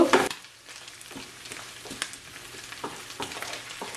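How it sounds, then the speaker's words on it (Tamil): Dried red chillies fry with shrimp in hot oil, a close, steady sizzle broken by a loud stirring scrape at the start and soft repeated clinks of a spatula against the pan. "காஞ்ச மிளகா போட்ட அப்புறம் ஒரு நிமிஷம் பொறிச்சிருக்கேன்"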